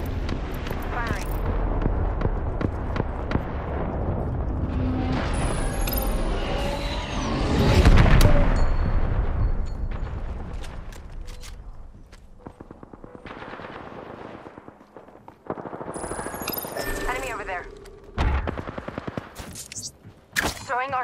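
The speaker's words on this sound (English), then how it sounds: "Firing." Rapid automatic gunfire and explosions in Apex Legends, with dense bursts of loud close shots swelling to a booming peak, then scattered volleys and sharper reports, while game voices talk over the action.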